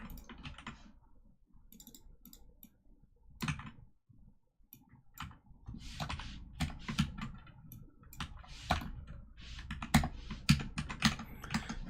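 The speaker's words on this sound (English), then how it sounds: "I guess we'll just type into this." Keystrokes rattle across a computer keyboard during a live coding session for a React, Redux and NestJS chat application, arriving in irregular bursts of close, crisp clicks with short pauses between them.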